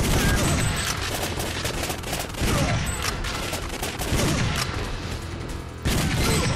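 Rapid gunfire rattles in the arcade shooter Time Crisis, loud bursts of shots separated by short pauses, close and dominant over faint background game sounds.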